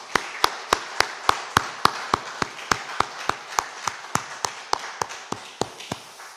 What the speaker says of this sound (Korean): 우리 50일을 완주하게 하신 하나님께 영광의 박수 올려드리겠습니다